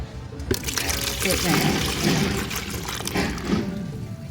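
Rice water (kanji) pours into a small bucket with a continuous splashing, gurgling stream, close and fairly loud, while a person talks over it.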